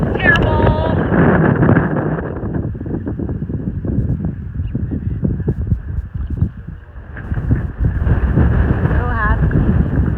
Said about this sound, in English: in this wind that is terrible